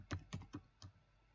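Typing on a computer keyboard: four quiet, close key taps in an uneven rhythm, heard alone against faint room noise.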